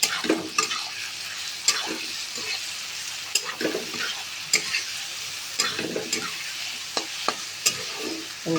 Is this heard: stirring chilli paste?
yes